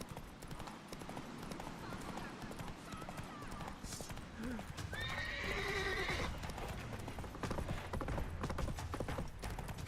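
Horse in The Witcher 3 video game, rapid rhythmic hoofbeats of a gallop running throughout with a clear loud whinny partway through, under game music and voices.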